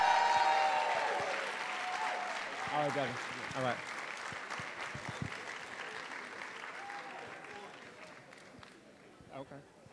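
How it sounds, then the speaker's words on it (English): Studio audience applause for actor Woody McClain at a promotional talk event, crowd clapping loud at first and fading away as someone speaks briefly over it. "Give him a round of applause."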